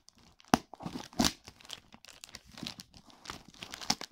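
A parcel holding Tamagotchi toys is torn open, with sharp crinkling plastic and paper tearing in several quick irregular bursts, close and moderately loud with no talking.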